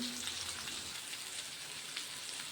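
Bangda (mackerel) fish frying in a pan, Alibag style, with a steady, quiet hiss of oil that continues evenly and faintly without pause.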